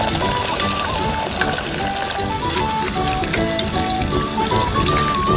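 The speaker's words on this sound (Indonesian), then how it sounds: "Lalu goreng dalam minyak panas." Breaded minced meat made from three kinds of meat, coated in breadcrumbs, frying in hot oil with a dense, steady sizzle that runs through the whole stretch, with light music also present.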